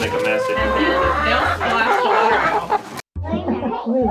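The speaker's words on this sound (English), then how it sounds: "I'll go in there with all the chickens in there. They're gonna go crazy." A flock of chickens clucks and squawks loudly and continuously nearby, with a brief break before the clucking resumes.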